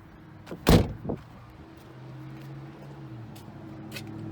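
The hood of a 2004 Buick Rendezvous pops open with a sharp latch thunk and a smaller click, followed by a low steady hum, near and clear with no voices.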